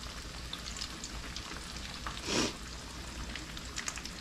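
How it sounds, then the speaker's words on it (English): Marinated citrus whiting fillet frying in a pan, a steady close sizzle and crackle throughout with a brief louder hiss surge in the middle, no talk. "I think I'm gonna have to fry them one at a time"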